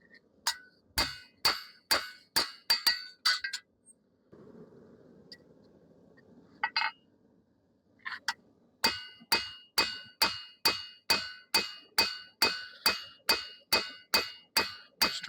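Sharp, ringing hammer blows on a steel chef knife blade being flattened to remove cross peen marks, struck in quick regular runs with a brief grinding or scraping pause in the middle, close and clear.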